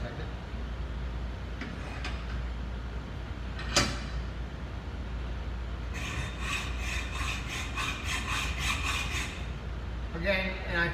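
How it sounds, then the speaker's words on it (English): A hacksaw cuts through a metal workpiece in a metal shop, first with faint background scraping. About ten steady, rhythmic back-and-forth strokes follow, close and distinct, and a few irregular scrapes come at the end. "we hold the hacksaw here"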